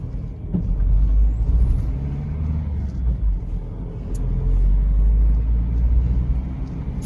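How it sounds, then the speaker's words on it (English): A Land Rover Freelander on a road test drive with worn brakes, a heavy low rumble of engine and road noise that swells and eases, with a faint scraping grind, no talk. "What we'll do now is take it for a quick test drive."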